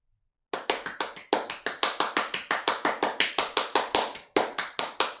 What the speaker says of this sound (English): I just heard your hands clapping